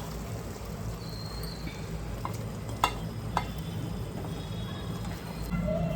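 Gentle sizzling of prawn masala frying as rice is stirred in, a low steady hiss with a few sharp clinks and scrapes of the spoon against the pan.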